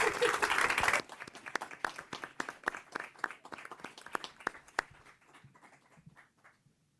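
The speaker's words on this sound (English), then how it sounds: "So they definitely deserve another round of applause." At a school committee meeting, a roomful of people applauds students. A brief burst of full clapping quickly thins into scattered individual claps that grow fainter and sparser until they die out.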